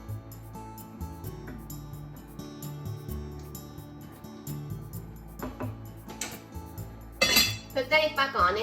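A chicken and potato stew gets stirred in a pot, first as a quiet low simmering hum with faint taps, then as a run of loud close clinks and scrapes of a utensil against the pot.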